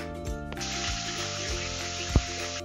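Tomato, shallots, green chilies and curry leaves sizzle steadily in hot oil for a salmon curry, a bright hiss that holds for about two seconds over soft background music, ending with one brief knock.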